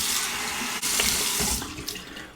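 Cold tap water runs steadily into a sink for a final rinse after a shave, a close, continuous splashing stream that shifts slightly in tone as hands move through it, with no talking.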